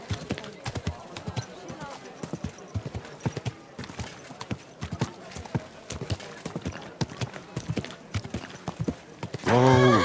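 Horse hooves clip-clop in a steady trotting rhythm on a road in Kingdom Come Deliverance II, over ambient noise. Near the end a loud close neigh breaks out.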